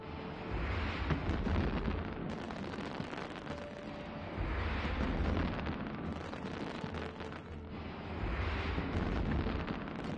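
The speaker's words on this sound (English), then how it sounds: "This is your official fireworks display" Fireworks display in the video game EVE Online: three long swelling rumbling bursts, each rising and fading, with crackling texture between them and no speech.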